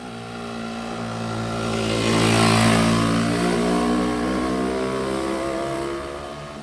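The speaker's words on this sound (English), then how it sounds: "The bike sounds excellent, it runs exceptionally." A 1972 Yamaha AT2 125 motorcycle with a freshly rebuilt standard-bore top end revs up, swells to a peak, then holds a steady buzzing drone before easing slightly, close and loud with no talk.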